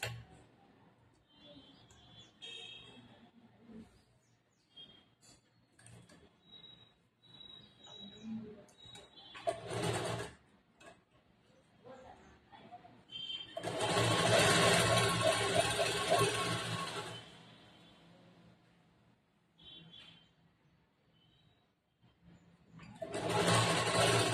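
A sewing machine runs in short stitching bursts on blouse fabric during a tailoring class, including one long continuous run of rapid needle chatter, with quiet pauses between.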